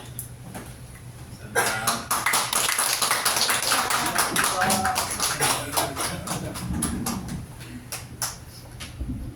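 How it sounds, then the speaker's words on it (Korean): A church congregation at a morning service bursts into loud, sustained applause to welcome a visiting professor, starting abruptly after a quiet moment and then gradually thinning out toward the end. "우리 교수님 나오실 때 예, 박수로 환영하겠습니다"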